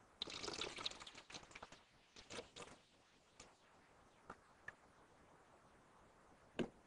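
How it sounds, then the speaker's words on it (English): Liquid gel is poured into a gel electrophoresis tank, giving faint, close splashes and drips in a few short bursts, then sparse isolated drops. "Now the liquid jelly is going in."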